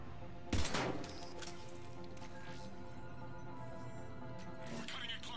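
Gunfire at a lock in the video game Mass Effect 3, a sharp burst of shots early on, then a low hum of game ambience with faint sound effects.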